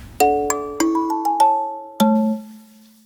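A phone ringtone plays a short melody of bright chiming notes, close and clear, with a final tone that rings out. No one speaks.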